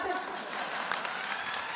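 A short burst of steady audience applause at a Hindi poetry gathering in Burhanpur, dense and even, with faint crowd noise underneath.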